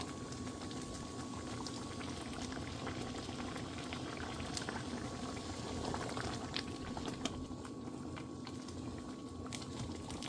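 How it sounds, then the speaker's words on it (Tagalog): Mung beans with pork ribs and cracklings boil steadily in a pot, a continuous bubbling patter with small pops throughout, with no talk over it. "ito ang ating nilulutong munggo with pork ribs and chicharon or cracklings"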